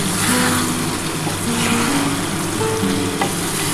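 Mutton with spice water sautéing in a pan, a loud continuous sizzle and bubbling frying sound close by, with faint scraping of stirring and no talk.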